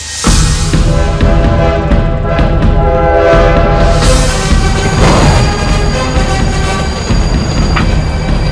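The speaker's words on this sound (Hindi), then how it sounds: "ट्रेन आ गई सूबेदार, ट्रेन आ गई।" A train horn blares loudly and continuously over rumbling rail noise as a train pulls in, the horn's steady tones holding for most of the stretch with a brief swell midway.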